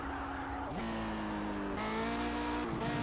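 Tires of a Lotus 78 race car spinning and squealing at the Nürburgring in a racing video game, a loud engine whine sliding through gear changes with sustained tire screech throughout.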